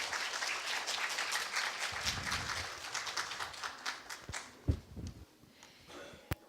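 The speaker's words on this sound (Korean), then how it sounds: "큰 박수 부탁드립니다" An audience at a Korean SketchUp and Twinmotion presentation event applauds: a dense burst of clapping that thins into scattered, fading claps with a few louder single claps near the end.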